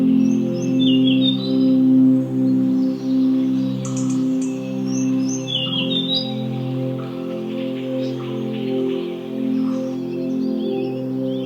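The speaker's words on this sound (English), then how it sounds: "the colorful wild birds with their melodious and incessant chirping that create amazing natural sounds" Wild tropical forest birds chirp and sing incessantly, with overlapping calls and trills over a steady rich chorus, loud and close, with no talk.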